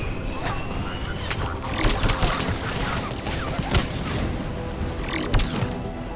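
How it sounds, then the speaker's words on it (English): Sustained gunfire during a checkpoint firefight in Mass Effect 3, with rapid bursts and booming impacts crackling continuously over dense battle noise. "Shepard, Cerberus troops at checkpoint, attempting to kill Krogan. Need assistance. I see the checkpoint. They're under fire"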